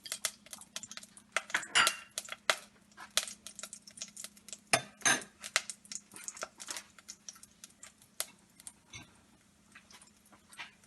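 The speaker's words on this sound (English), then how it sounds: "I like to cover it and give it a good shake so the kitchen doesn't get messy" Cumin seeds rattle and tick inside a covered pan as it is shaken on the stove, a fast scatter of small clinks and taps in uneven bursts with a low hum underneath.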